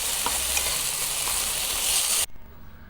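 Spices and potato frying in a pan give a bright, steady sizzle with a few stirring scrapes, close and loud, then cut off abruptly near the end leaving faint room noise.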